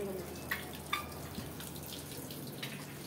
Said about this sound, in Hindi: टोटी में बंद कर रहा हूँ, पानी फुल हो गई है